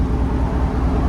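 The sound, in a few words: 2019 Chevy Tahoe 5.3L V8 revving with Borla ATAK exhaust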